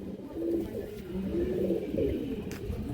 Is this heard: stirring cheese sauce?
no